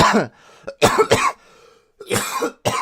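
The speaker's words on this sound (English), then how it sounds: "Coughing." Several harsh coughs in quick bursts, close up, with short gaps between them and a bit of throat clearing.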